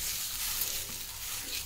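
Ragi and drumstick leaf adai flatbread cooks on a hot dosa tawa, giving a soft, steady hiss of sizzling that stays even and fairly faint throughout, with no talking.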